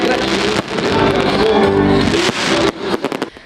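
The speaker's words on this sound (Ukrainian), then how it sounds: "Феєрверк став дійсно яскравим завершенням свята." Loud fireworks closing a holiday celebration, bursting in rapid succession, dense crackling booms with a crowd murmuring underneath, ending in a few sharp separate pops.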